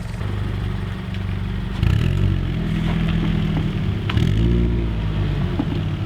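A Toyota 86's aftermarket exhaust idles with a deep, steady rumble, blipped twice into brief revs before settling back to a low burble.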